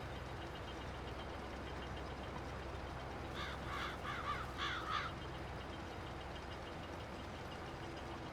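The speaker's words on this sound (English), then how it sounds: "Running over crows in my field." Crows in a Farming Simulator 22 field give a short run of about five raspy caws at middle distance, heard over the steady drone of an idling farm vehicle engine.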